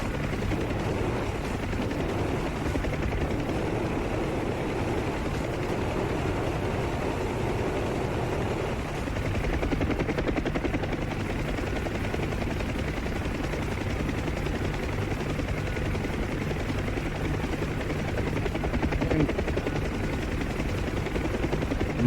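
Huey UH-1 helicopter in DCS flight simulator, with a steady, dense rotor and turbine drone running loud and continuous throughout, no voices.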